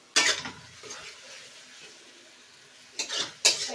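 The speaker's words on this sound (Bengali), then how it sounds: "তো আমি মশলাটা কষিয়ে নেব।" Masala with tomato sauce being stir-fried for cumin chicken, soft sizzling under a few loud utensil scrapes and clanks against the pan at the start and end.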